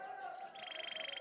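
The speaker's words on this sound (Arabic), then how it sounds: "كذلك الأصوات والتغريدات ولا أروع" A canary gives a quick, high chirping trill, faint and brief against a quiet background.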